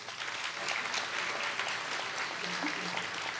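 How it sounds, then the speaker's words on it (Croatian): An audience at a live singing competition claps steadily throughout, a dense and fairly even ovation with a few overlapping voices beneath it. "pozdravite velikim pljeskom moju suvoditeljicu Anu Krešimiru Smiljanić"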